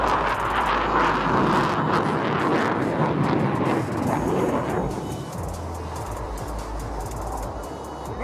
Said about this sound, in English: The maneuver, ladies and gentlemen, is proof of the agility of this mighty aircraft.